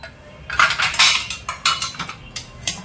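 New steel pots and pans clink and clatter while being oiled, several sharp metallic knocks and scrapes in quick irregular bursts, close by with no talking.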